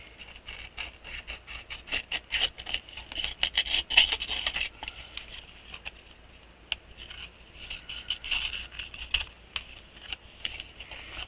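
Scissors fussy cutting paper, a close, irregular run of small snips and rasping paper rubs continuing for several seconds at a soft level.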